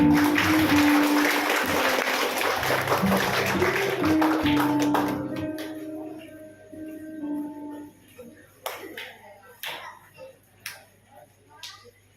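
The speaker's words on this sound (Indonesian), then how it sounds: "Tepuk tangan." Women gathered at a mosque graduation ceremony applaud warmly for several seconds before the clapping fades to scattered taps and faint voices, with a low hum underneath.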